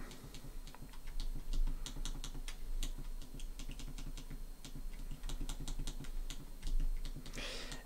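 Quiet, rapid button presses on a Flipper Zero handheld while entering text, a steady run of small clicks in uneven bursts with no talking.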